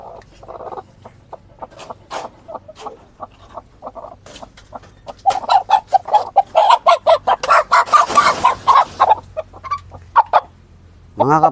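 Several backyard chickens that are recovering from a cold cluck repeatedly nearby in short, choppy bursts. The calls grow louder and denser midway, with a brief rustle and a low background hum throughout.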